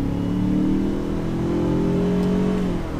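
A 2019 Ford Ranger Lariat FX-4 truck's engine accelerates steadily from inside the cab, its hum climbing slowly in pitch under road noise before easing off near the end.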